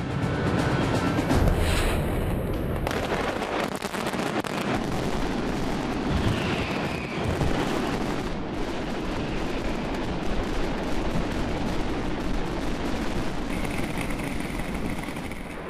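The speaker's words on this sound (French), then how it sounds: "sentir les ondes de choc des 2000 bombes suspendues à un réseau de cordes" A mascletà of 2000 firecracker bombs hung on a network of ropes, exploding in a dense, continuous, thunderous barrage of cracks and booms, loud and sustained with no pauses.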